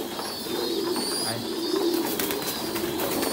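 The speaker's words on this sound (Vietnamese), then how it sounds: "Đây là chim bồ câu gà trắng mọi người nhé." White pigeons coo softly in a steady series of low, throaty calls over constant background noise, with no voices.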